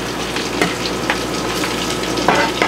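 Almaco jack fillets with a Ritz cracker and parmesan crust sizzle and fry in a pan, a dense continuous crackle with a few brief sharper pops and stirs, close and alone.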